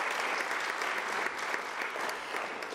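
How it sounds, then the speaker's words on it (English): An audience at a launch event breaks into steady applause, a dense continuous patter of many hands clapping at moderate volume, heard alone without talk for nearly three seconds. "I think they need a very big round of applause for that"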